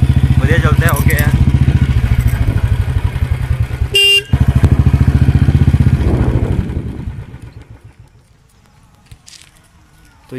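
A Royal Enfield Bullet 350X BS6 motorcycle thumps along with a steady, loud single-cylinder beat, a short horn toot midway, then the engine note fades away into the distance.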